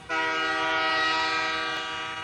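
A passing train sounds a long, loud, steady horn blast as a sound effect in an audio drama, the tone holding strong before easing slightly at the end, with no other sounds around it.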